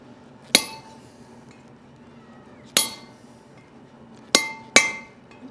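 Hammer blows driving a hot-cut chisel through hot steel on an anvil: four sharp metallic strikes with ringing decay, irregularly spaced, loud and close with no speech.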